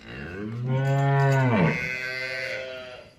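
A single cow on a farm selling fresh-calved cows and heifers gives one long, loud, close moo that rises and falls over about three seconds, with no talk over it.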